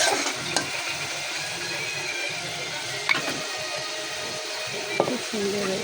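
Potatoes fry in a pan at home while being stirred, a continuous crackling sizzle with occasional scraping clinks of the utensil against the pan, close and fairly loud.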